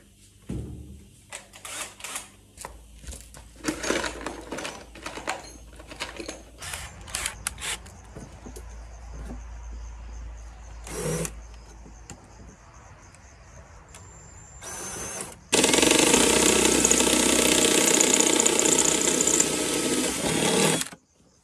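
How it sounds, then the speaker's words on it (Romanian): A drill bores a hole through a weld spot on a Dacia car. Scattered knocks and handling clatter come first, then a loud, steady drilling roar runs for about six seconds near the end. "O să-i dau o gaură acolo, în locul la sudura aia"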